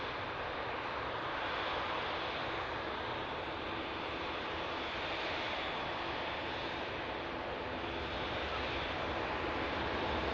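A BA shuttle jet rolls for take-off at Manchester Airport, making a distant, steady broadband engine roar that holds constant throughout, with no voices.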